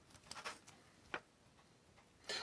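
A Seiko A829-6019 Astronaut LCD quartz wristwatch gives a faint, tiny button click against a quiet, hissy room background, with a few other soft ticks around it.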